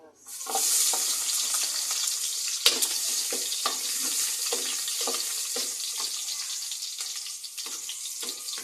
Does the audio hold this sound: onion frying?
yes